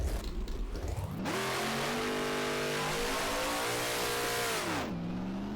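A race car in the rFactor driving game roars off the line on a drag run, its engine rising and holding at a loud, steady scream for several seconds before dropping sharply as the run ends.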